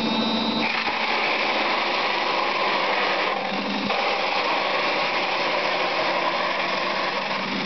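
A homemade Styropor shredder runs continuously, a loud steady high-pitched motor whine with grinding and churning as foam feeds through, constant throughout without any voices.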